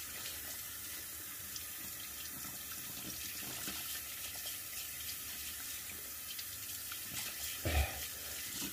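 A water tap runs steadily while a shaving brush is rinsed under it at a sink, a continuous close hiss of flowing water with a brief louder splash near the end.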